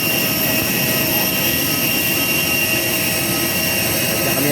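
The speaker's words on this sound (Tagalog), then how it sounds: "ang aeroplano natin. Ang aeroplano namin." An airplane's engines give a loud, steady, continuous roar at close range, with a constant whine layered over a broad rumble and no break for the whole stretch.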